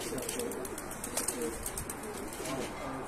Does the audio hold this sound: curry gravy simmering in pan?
no